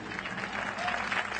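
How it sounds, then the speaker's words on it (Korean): Audience clapping after a samulnori traditional Korean percussion performance, a dense, steady wash of applause from a sizable crowd lasting throughout. "박수."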